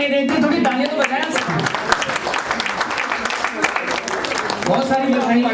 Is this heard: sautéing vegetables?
no